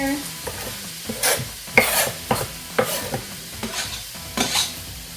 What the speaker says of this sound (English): we're gonna go ahead and add our butternut squash into the pot